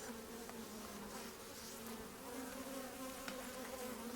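Honey bees buzz around a homestead hive during a first inspection a week after installation, a soft, continuous drone that holds steady throughout with no voices.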